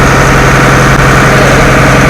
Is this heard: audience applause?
no